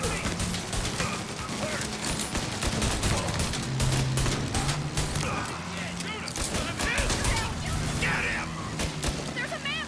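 Bursts of gunfire and a machine-gun fusillade from the Mafia video game, dense rapid shots going on throughout, mixed with game sounds while a player talks over them.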